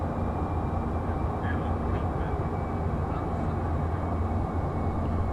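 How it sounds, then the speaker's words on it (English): A Toliss airliner in the X-Plane 12 flight simulator, with a steady, dense engine roar heard from the cockpit that stays constant throughout, with no voices. "Sounds really good, this plane."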